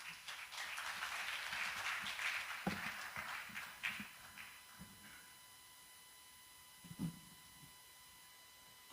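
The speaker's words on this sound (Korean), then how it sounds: "박수로 맞아주시겠습니다" An indoor audience at a Christian prayer meeting and seminar applauds to welcome a speaker, with steady faint clapping that fades after a few seconds, followed by a few scattered thumps over a quiet hum.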